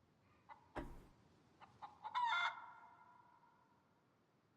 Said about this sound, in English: No way I'm going to find where this chicken is.